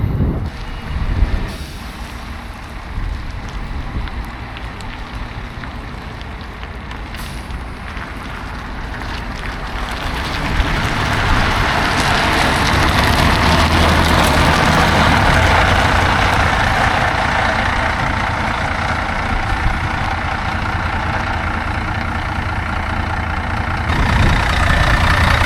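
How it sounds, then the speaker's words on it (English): Bus engine idling, then rumbling louder and steadier as the vehicle is driven and reversed toward a wrecker outdoors, with wind noise and a low continuous drone. "We're going to drive the bus up to the wrecker and get that sorted."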